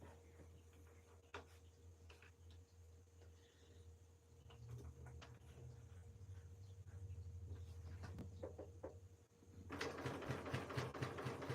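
A sewing machine stitches a seam on KnowMe ME2009 pants, a low steady motor whir running for several seconds mid-stretch, faint and close, followed by louder fabric rustling and handling at the end.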